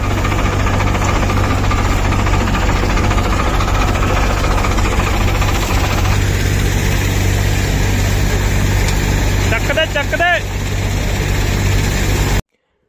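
A farm tractor engine running steadily and loudly up close, a continuous rumbling drone with a constant low hum throughout; a man briefly calls out near the end before it cuts off.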